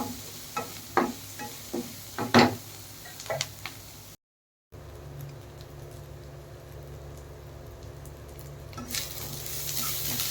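Onions and curry leaves sautéing in a pan for a crab kulambu, with scattered spatula scrapes and taps over a steady low sizzle, a brief dropout midway, then continuous quieter frying.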